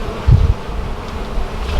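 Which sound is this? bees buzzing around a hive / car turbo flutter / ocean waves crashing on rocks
bees buzzing around a hive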